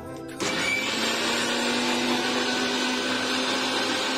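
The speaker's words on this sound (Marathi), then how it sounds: "सगळ्यात आधी इथे मी मिक्सरच्या भांड्यामध्ये दही घालून घेते" Mixer grinder jar with yogurt and water switching on after a brief pause, then a loud, steady high whirring blend running on without break, close by.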